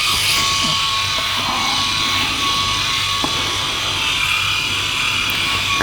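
A Philips i9000 electric shaver buzzes steadily and loudly up close while shaving a head, a continuous motor drone with faint scraping as it moves.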